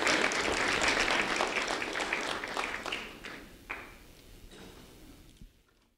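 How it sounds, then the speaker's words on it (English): Audience applause for a 2nd grade student at a sheriff's office recognition event, a steady dense burst of clapping that gradually thins and fades out. "Kaylee Ackley, a round of applause for Kaylee Ackley, please."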